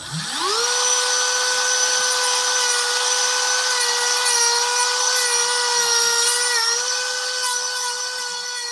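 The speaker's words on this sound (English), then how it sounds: "going to use the Dremel." A Dremel rotary tool grinding plastic spins up quickly, then holds a loud, steady, close-up high whine for about eight seconds, dipping slightly near the end.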